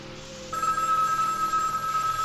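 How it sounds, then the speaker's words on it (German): A telephone rings with a sustained, steady electronic bell tone that begins abruptly and continues at moderate loudness, clear and unbroken, with no speech over it. "Herrschaftszeiten, das blöde Telefon."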